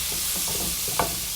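Minced garlic, about a teaspoon, goes into a hot pan and sizzles with a steady frying hiss, plus a brief stir of the spoon, close and moderately loud.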